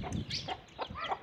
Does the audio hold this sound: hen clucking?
yes